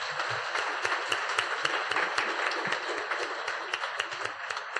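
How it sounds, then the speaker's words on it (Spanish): A church congregation applauds together in a steady, dense wash of clapping, with sharper individual claps popping out here and there, and no voices over it. "¿Cuánto le dan un aplauso a Dios por eso?"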